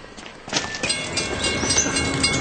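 A train rolls past at a pedestrian level crossing, a loud, close rush of rail noise with rhythmic wheel clatter building after the first half second and holding steady, with no talk.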